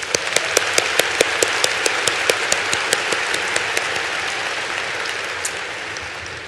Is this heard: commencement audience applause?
yes